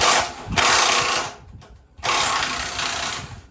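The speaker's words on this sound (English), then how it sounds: "I'm going to put a wrench on one side and my Milwaukee on the other, and pop them off" A Milwaukee power drill whirs in two loud bursts with a rattling, ratcheting buzz, a short pause between them as bolts are spun off a Corvette C3 rear differential, a wrench holding the other side.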